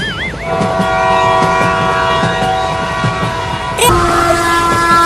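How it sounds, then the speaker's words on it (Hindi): A train passes on a railway line close by, a loud continuous rumble with a sustained horn blast that shifts pitch partway through. "अरे ट्रेन तो रुक ही नहीं रही।"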